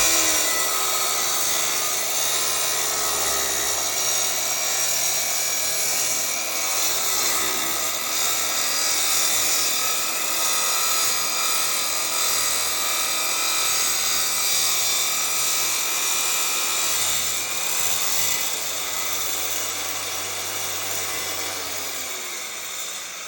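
A wet saw cuts marble mosaic tile at a 45-degree angle in a small jig, giving a steady loud whine with grinding and water spray that runs unbroken for the whole stretch, with no one talking.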